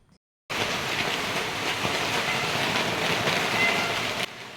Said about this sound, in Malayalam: ദേ പുറത്ത് നല്ല മഴയുണ്ട് നിങ്ങൾക്ക് കാണാൻ പറ്റുന്നില്ലെങ്കിൽ ഞാൻ കേൾപ്പിച്ച് തരാം